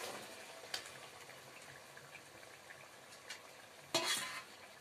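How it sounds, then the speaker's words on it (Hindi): Cauliflower being stirred into a spice masala in a pan, quiet scraping and soft sizzle with a few scattered clicks and one louder burst of stirring near the end, close and faint. "अभी मैं इस गोभी को इसमें मिक्स करूंगा मसाले में"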